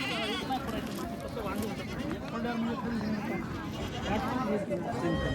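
Goats bleat several times close by at a goat market, their wavering cries overlapping with people talking throughout.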